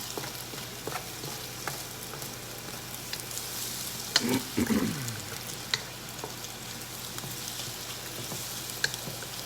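Scrambled eggs sizzling in a wok, with a soft steady fry hiss and a brief burst of stirring scrapes midway, fairly quiet and close.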